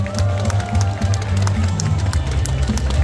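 Applause from an audience at a Sewol ferry disaster memorial cultural event in Daejeon, following choir performances, a dense steady clapping crowd filling the whole moment without a break.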